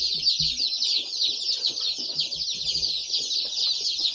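Pullet chicks from Cackle Hatchery, including Austria whites, peep in a constant shrill chorus from inside a shipping box, with faint low rustles and bumps underneath.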